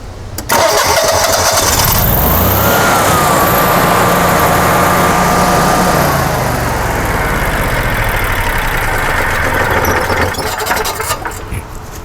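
A Generac air-cooled home standby generator cranks and catches, its engine settling into a loud, steady running drone that persists close by for the rest of the span.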